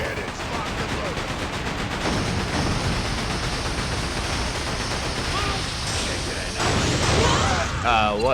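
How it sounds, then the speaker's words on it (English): Ship cannons fire in a pirate naval battle in the Yakuza video game, a dense, continuous roar of booming blasts and crashing spray, loud throughout and swelling near the end. "Cannons locked and loaded."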